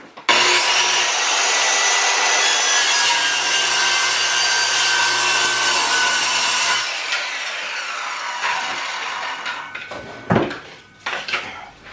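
A saw cuts wood for a go-kart seat and firewood, giving a loud, continuous rasping buzz for about seven seconds, then stopping into scattered knocks and clatter of wood being handled nearby.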